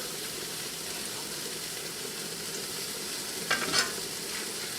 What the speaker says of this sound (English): That's immediately what I'm looking for, is that sizzle right there.